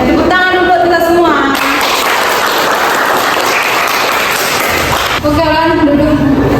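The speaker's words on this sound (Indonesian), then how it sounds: "Tepuk tangan dulu buat kita semua" Classroom applause bursts in mid-clip as a dense, loud wash of many hands clapping for several seconds, with voices speaking both before it starts and after it ends.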